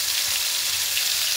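Onion and garlic paste frying in oil for an egg korma, a steady soft sizzle with a faint crackling hiss throughout, close and moderately quiet, no voices.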